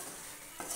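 Broad beans being stirred as they fry in a pan, a steady close sizzle with a brief scraping stir near the end, no voices.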